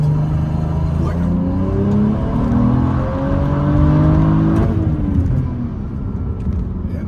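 A tuned BMW 435i on an MHD Stage 2 map revs hard with anti-lag, its engine note climbing and falling in loud, close pulls over several seconds while a voice talks underneath.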